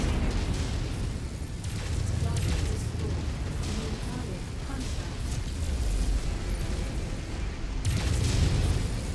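Mech combat video game with weapons fire and explosions, including a Hunchback mech, rumbles as repeated booming blasts and bursts under a player's talk, loudest at the start and end.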